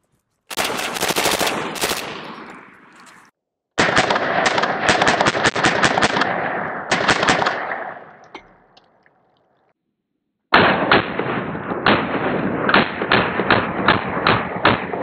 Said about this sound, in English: this is M193 coming on my G36. Which is also a machine gun